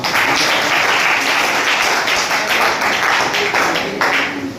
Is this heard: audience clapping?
yes